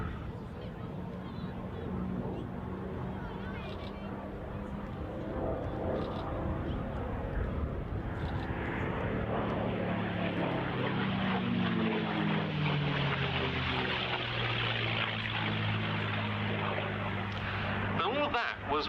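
A P-51 Mustang with an Allison V1710 engine flies past, its propeller drone building from a distant rumble to a loud, throbbing roar, while someone talks over it.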